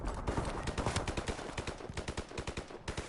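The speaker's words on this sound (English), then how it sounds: "You're gonna get shot with a machine gun either way, bro." Rapid machine gun fire in a video game, a dense stream of close, loud bursts with a steady rattling rhythm of shots running the whole way through.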